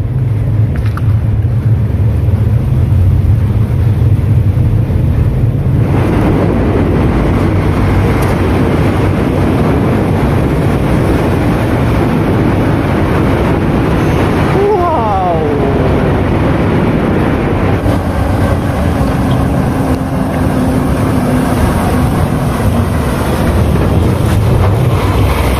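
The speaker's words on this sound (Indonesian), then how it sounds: "suara kendaraan dari dalam terowongan" Vehicles rumble inside a large tunnel of the Jakarta–Bandung high-speed rail project, producing a steady, loud, wind-like roar that echoes heavily throughout, with no talking.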